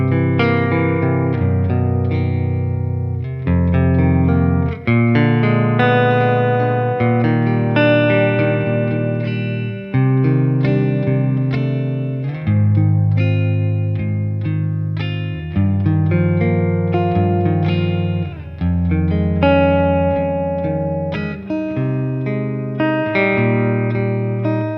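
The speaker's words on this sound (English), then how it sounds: "we're turning off the Deco, so this is just guitar into amp" Electric guitar through an amp plays a continuous melodic line with chords, clean and slightly chorused with a little reverb, loud and up close.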